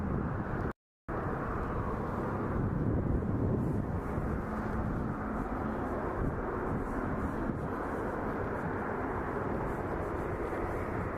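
A Saudia airliner bound for Jeddah lines up for takeoff at Toronto Pearson Airport, its jet engines a steady, distant broadband rumble with wind noise and no talk.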